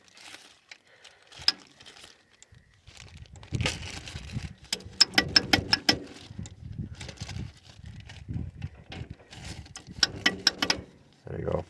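The gear shifter on a Ford F1700 tractor being worked by hand, its ball bearing clicking into the detent notches as a run of close metallic clicks and clunks, with some handling rattle between them.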